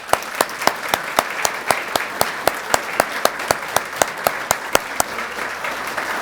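A regular, evenly spaced series of sharp claps rings out at an awards dinner, steady and fairly close, with no voices over it.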